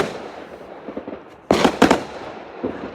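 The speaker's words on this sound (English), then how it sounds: "people are allowed to send off fireworks themselves. So that is what's happening out in the background and outside my house right now." Fireworks set off by residents around a suburban house at New Year: distant crackling pops, then a sudden loud burst of two sharp bangs, with fainter crackles trailing off.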